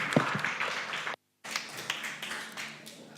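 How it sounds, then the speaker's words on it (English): Audience applause welcoming a speaker to a stage, a steady, fairly faint wash of clapping that cuts out completely for a moment and then resumes at a similar level. "Yes, an applause."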